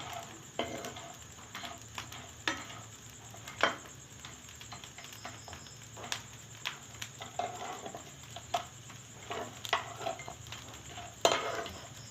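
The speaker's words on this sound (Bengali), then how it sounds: "বড়িগুলি লাল করে ভেজে নিতে হবে।" Bori lentil dumplings fry in oil until reddish, a steady low sizzle broken by frequent spoon scrapes and clinks against the pan, some sharp and close, with no talking.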